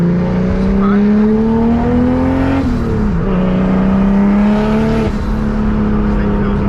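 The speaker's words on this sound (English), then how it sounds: "It's literally my first time actually pushing the car like this" Turbocharged BMW E30 pulling hard under boost, its engine note climbing steadily in pitch with a brief dip near the middle as it shifts, loud and close throughout with no talking.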